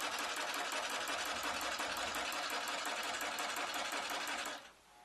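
A longarm quilting machine stitches slowly along a seam line into a quilt block, giving a steady, even mechanical needle rattle that holds constant for several seconds and then stops abruptly near the end.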